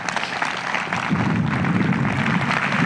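Sustained applause from an audience at a tennis Hall of Fame induction ceremony in 2002, a dense steady wash of clapping that swells slightly and holds at full level throughout.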